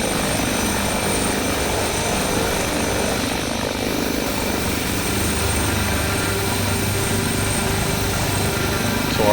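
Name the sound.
helicopter engine and rotor in a flight simulator video game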